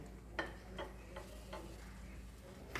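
A spoon stirs cardamom in a pan over a low flame, giving four or five soft, evenly spaced scrapes over a faint steady sizzle.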